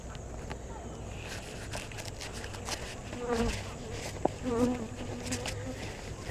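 Honey bees buzzing around an open hive during an inspection, a soft steady drone of many insects, with a few nearby bees passing close and some light handling noise.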